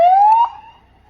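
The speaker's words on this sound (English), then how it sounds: "Notice the difference between a regular police siren" A regular police car siren gives one loud, close, rising wail that cuts off after about half a second, leaving a brief fading tail.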